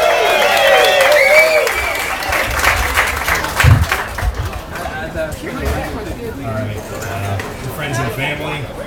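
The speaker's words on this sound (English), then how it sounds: "give him a round of applause" Wedding guests applaud the best man at a reception, clapping loudly at first and then thinning out, with dishes and cutlery clinking and a voice talking over the fading applause.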